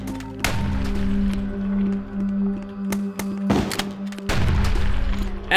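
Automated gun turrets firing in the retro shooter HROT, loud sharp blasts at intervals over a steady humming, droning game soundscape.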